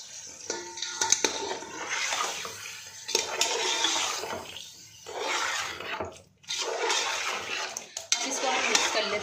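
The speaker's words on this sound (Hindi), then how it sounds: "इसको आप मिक्स कर लेते हैं। इसको अच्छे से मिक्स करके हम ढककर रख देंगे।" Yogurt is stirred into a chicken biryani marinade in a bowl, with repeated wet scraping and clinking of a spoon against the dish in several bursts separated by short pauses.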